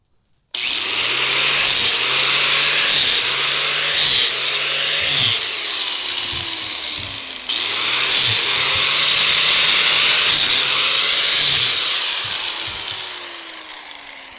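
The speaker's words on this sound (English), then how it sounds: "And I'll just demo a couple with this angle grinder." An angle grinder grinds steadily into wood for mushroom cultivation, a harsh whining roar that briefly dips midway and then resumes before tapering off.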